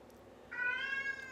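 A single drawn-out cat meow, clear tonal and fairly faint, rising over quiet background hum with no talk.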